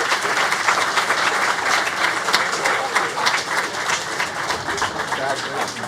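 A live audience at a startup demo day showcase applauds the winners, with dense, steady clapping that stays loud and continuous throughout.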